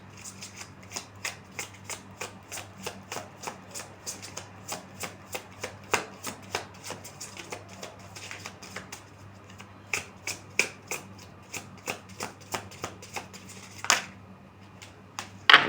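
Tarot cards shuffled and drawn for a pick-a-pile reading, a long run of crisp riffling flicks and snaps at steady close range, with a louder slap near the end and no talking.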